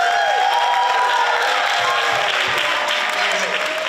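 An audience at an NJPAC ArtsXchange event claps and cheers loudly and steadily, with whoops and shouts carried over a continuous wash of applause.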